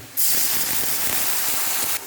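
A sudden loud hiss and crackle as water hits a hot pan of fried onions and green chilies, a dense steamy sizzle lasting under two seconds before cutting off.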